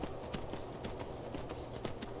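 Hooves of a Skyrim horse (a unicorn mount) clip-clop in a quick, steady rhythm of several beats per second, soft and even over a quiet background.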